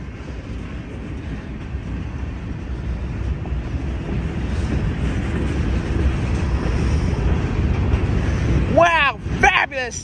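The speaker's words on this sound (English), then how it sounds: "QB-17 pulling in the mixed freight train with four locomotives" A long CSX mixed freight train with four locomotives rumbles past with steady low roaring and rolling noise, growing slightly louder, with a couple of sharp squeals near the end.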